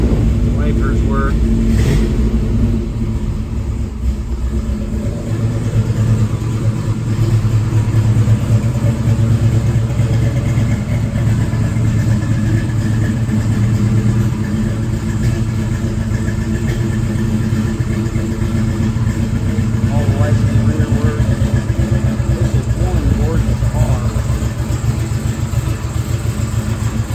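A 1967 Chevrolet Chevelle SS with a numbers-matching 396 V8 and four-speed manual, Royal Plum paint, rumbles steadily while driving, a loud, continuous low engine drone filling the cabin with little change in pitch.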